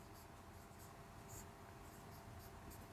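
A pen writes on paper during a class 10 biology lesson, making a close, continuous scratchy stroking sound with small rhythmic accents of short word strokes.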